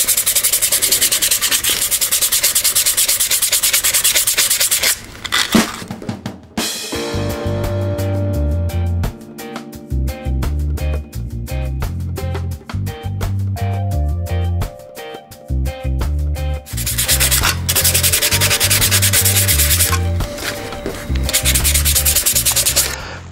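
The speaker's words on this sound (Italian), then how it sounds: "dobbiamo carteggiare leggermente per opacizzare questa superficie" Scooter clutch friction material being sanded by hand with sandpaper: continuous close rasping strokes, loud and steady, with a rougher, more rhythmic stretch in the middle and no talking.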